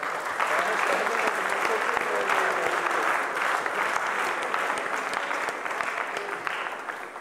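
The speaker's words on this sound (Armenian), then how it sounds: "եկեք ծափարենք" An audience at a comedy game show claps for winning contestants, a dense, sustained round of applause that stays loud throughout and tapers slightly near the end.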